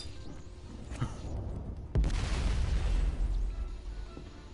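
A grenade goes off in the Mafia 2 video game: one deep, heavy boom about midway, followed by a sustained low rumbling tail over quieter background game noise, with no talking.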